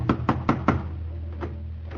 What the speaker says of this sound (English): He knocks on the front door.